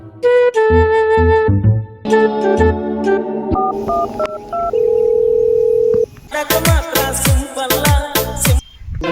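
A telephone being used to place a call, with a series of clear electronic beeps and held tones like dialing and ringback, loud and close, followed by a burst of busier tonal sound at the end.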